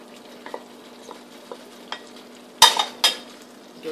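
A spoon stirs black-eyed bean curry (chawli sabzi) in a pan after cooked beans go into the fried masala, soft scrapes and light clinks with two louder scraping knocks near the end over a faint sizzle.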